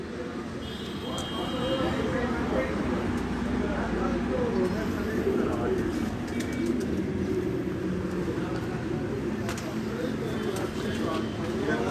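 Breeder pigeons in cages coo steadily in a dense, continuous chorus while someone talks over them throughout.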